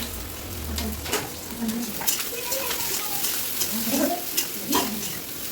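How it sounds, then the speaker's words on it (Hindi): Onions sizzle in a pan at the start of an okra curry, a steady frying hiss with occasional stirring scrapes, while someone talks over it. "तो यहाँ पर सबसे पहले प्याज को हमने डाल दिया है, थोड़ा सा पकाएंगे"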